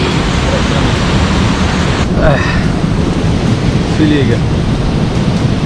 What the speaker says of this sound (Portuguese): Ali a cachoeira, a queda, né?